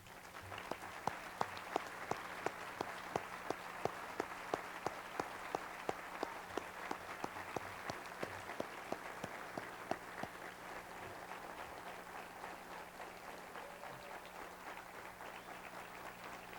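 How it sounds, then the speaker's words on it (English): A standing audience at the 2005 Chattahoochee Valley Sports Hall of Fame ceremony gives the inducted class a final round of applause, with distinct rhythmic claps over a broad wash of clapping that slowly fades. "please rise and give one final round of applause to the class of 2005"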